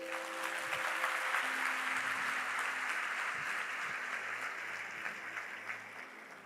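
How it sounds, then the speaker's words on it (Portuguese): A church congregation claps together during a sermon, a broad steady wash of applause over a faint sustained tone, fading slightly toward the end. "Quantos podem aplaudir ao Senhor?"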